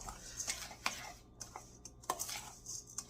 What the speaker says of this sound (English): You want to mix it really, really good.